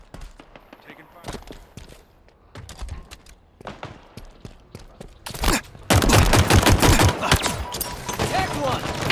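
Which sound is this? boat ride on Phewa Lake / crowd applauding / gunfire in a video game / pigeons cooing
gunfire in a video game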